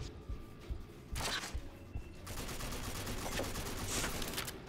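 Gunfire from the shooter game RAGE bursts in twice, fairly close, with a steady rumbling background between the shots.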